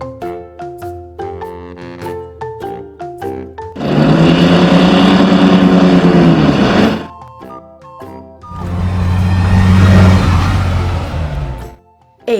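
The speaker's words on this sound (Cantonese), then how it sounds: "H hovercraft 氣展船。" Toy hovercraft sound effect, heard as two loud, rushing, fan-like roars of a few seconds each, separated by short melodic tones.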